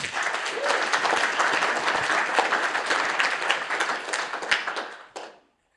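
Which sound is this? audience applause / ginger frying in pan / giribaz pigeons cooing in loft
audience applause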